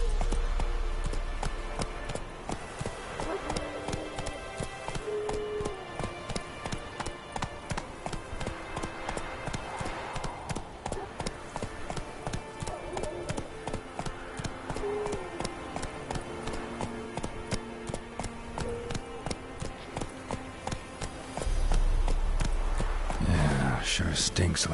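Horse in The Witcher 3 galloping steadily with rapid, continuous hoofbeats, with someone speaking over the running hooves and a deeper rumble at the end.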